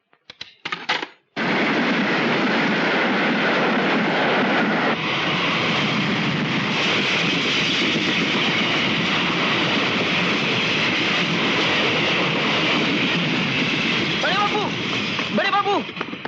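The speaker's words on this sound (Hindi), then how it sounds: "अभी अभी सुपर एक्सप्रेस पास हुई है" A Super Express passenger train in a film scene thunders past at high speed, a loud, sustained broadband roar and rattle after a short burst at the start, with faint high squeals near the end.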